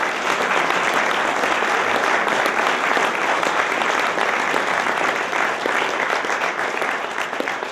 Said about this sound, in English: Let's give a round of applause to the Hartford Times.